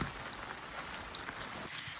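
Rain falling steadily outdoors on a wet hiking trail near Prague, a dense even patter with a few distinct drops landing close by.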